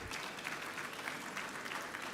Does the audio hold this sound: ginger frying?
no